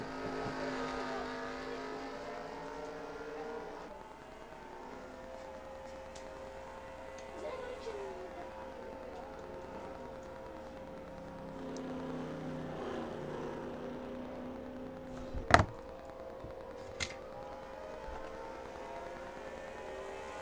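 Simulated NASCAR Cup stock car engines from NASCAR Racing 2003 at Mid-Ohio, a steady multi-engine drone held for twenty seconds with a sharp brief bang near the end and a fainter click after it.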